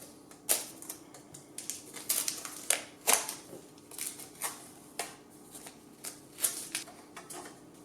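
Clamps and tape are pulled away from a freshly epoxied 3D-printed carbon fiber telescope tube, giving a quiet series of sharp clicks, snaps and rustles spaced irregularly, close by with no talking.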